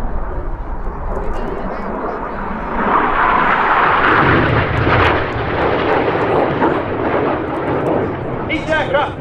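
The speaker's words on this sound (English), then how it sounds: "Coming in from the left, accelerating as he descends down is Red 9, Flight Lieutenant Patrick" Red Arrows display jets at the Midlands Air Festival roar past steadily in formation, a loud continuous broadband jet rush that swells midway and holds, with a commentator talking over the noise.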